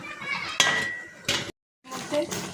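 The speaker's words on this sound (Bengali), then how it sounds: "এখন ঢেকে দিব সিদ্ধ হওয়ার জন্য।" A metal lid clanks onto a cooking pot of amra pickle in two sharp knocks, close and clear, with someone talking around the clatter.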